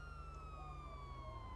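A police car siren in a video game wails with steady falling tones over a low, rumbling engine drone, fairly faint and unbroken throughout.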